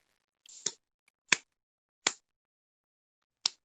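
Four sharp, isolated hand claps, spaced unevenly about a second apart, crisp and close with silence between them.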